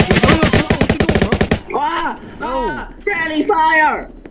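Rapid bursts of gunfire from the Roblox game Jailbreak crack out loudly for over a second, then give way to excited shouting voices.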